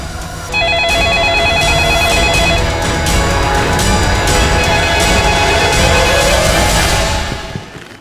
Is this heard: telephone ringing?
yes